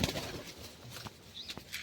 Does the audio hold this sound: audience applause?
no